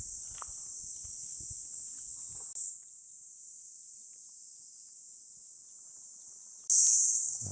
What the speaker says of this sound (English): there's more crickets as the other place